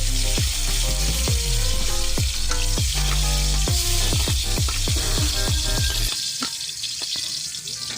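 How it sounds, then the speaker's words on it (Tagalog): Garlic sautéing in hot oil in a pan, a steady loud sizzle with repeated scraping and stirring clatters of a utensil against the pan, then a quieter hiss near the end. "Painitin ang kawali, lagyan ng oil, then saute garlic"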